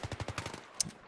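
Support-class machine gun firing in Battlefield 3, a steady burst of about seven rapid shots at an even rhythm, fairly close, with a brief sharp metallic clink near the end and no voices.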